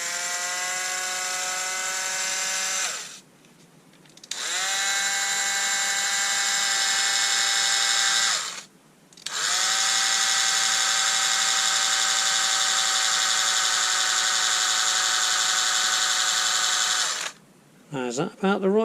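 Small Bosch 7.2V cloth cutter motor converted from NiCd to Li-ion power, running in steady high-pitched whining bursts of several seconds, stopping twice and restarting, loud and close with no talk over it.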